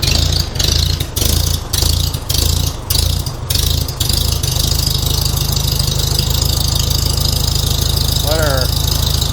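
A Farmall H tractor engine cranks in several loud bursts, then catches and settles into a steady, close, rumbling idle with a low rhythmic chug.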